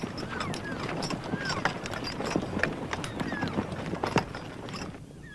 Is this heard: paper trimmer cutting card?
no